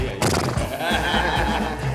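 A horse neighing as a sound effect, a loud whinny with a wavering tone that runs through the whole short stretch, alone with no talk.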